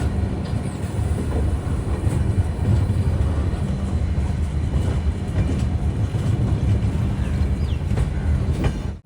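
An Indian Railways Rapti Sagar Express train runs steadily, a loud continuous low rumble of wheels and carriages with faint rhythmic clatter throughout, heard from inside or close to the coaches.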